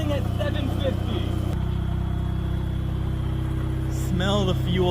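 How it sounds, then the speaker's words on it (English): A Mazda RX-7 FC rotary engine idles at about 750 rpm in first gear with the clutch in, a low steady hum running throughout while people talk over it. "and it's idling at 750."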